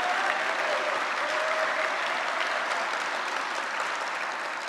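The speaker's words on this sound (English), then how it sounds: "So please give a big applause to Panis." Steady applause from an audience at a Python programming conference's closing session, dense and even clapping held throughout without voices rising above it.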